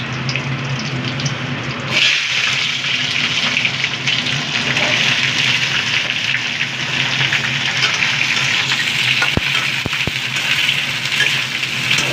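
A thin curry simmers and sizzles in a pan with spices and chillies, a steady hissing, bubbling wash of noise that swells after a brief opening and carries a few sharp clicks near the end.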